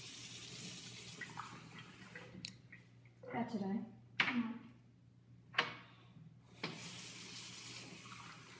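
Tap water runs into a sink as water is fetched indoors, a steady faint splashing with a few louder bursts, while a voice speaks briefly over it.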